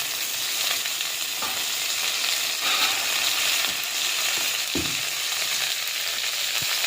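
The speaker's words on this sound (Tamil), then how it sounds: "கடுகு போட்டு ஒரு 4 உளுத்தம்பருப்பு போட்டு கருவேப்பிலை கொத்தமல்லி எடுத்து போட்டு அவ்வளோதான்." Mustard seeds, urad dal, curry leaves and coriander tempering in hot oil, giving a steady, close sizzle with light crackles and a few stirring clinks, no voices.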